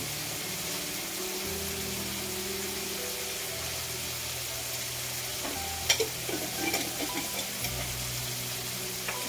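Macaroni pasta being stirred in a pan gives a soft continuous sizzle with a few faint scrapes and clinks near the middle, over a low steady hum.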